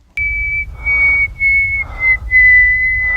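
A person whistles a steady, sustained high tone close up, held for a few seconds with slight breaks, in a tense horror film scene.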